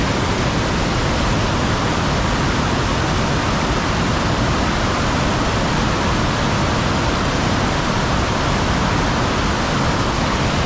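The high falls in Algonquin Park pour with a powerful, constant roar of rushing water, loud, close and unbroken throughout.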